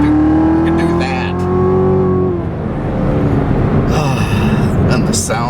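A Chevrolet Corvette C7 Z06 engine roars loud and close while driving, a rising then settling rev with a steady throaty drone, and a voice talks over it.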